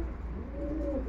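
A long-distance racing pigeon kept for breeding gives a soft, low coo that swells toward the end, heard close but quietly over a steady low background hum.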